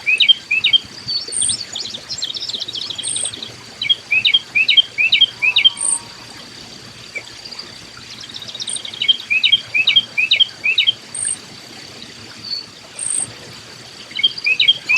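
Eastern bluebird song in a summer backyard: short warbling phrases repeat in clusters throughout, fairly close and clear, with insect chirps and a steady high buzz behind them.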